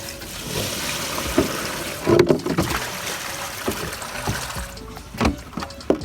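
Water being tipped out of a flooded pot holding a fancy-leaf caladium, heard as sloshing, splashing and trickling pours with a few louder gushes, close and moderately quiet, with no speech.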